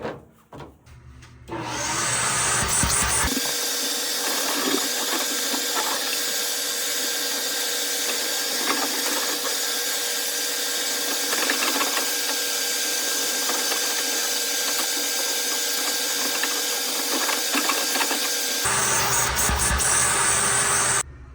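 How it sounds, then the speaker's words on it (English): A loud vacuum fitted with a PETODE dryer vent attachment runs steadily for most of the stretch, a constant high-pitched roar that starts abruptly after a brief quiet moment and cuts off near the end. "I'm going to explain it first because the vacuum is very loud"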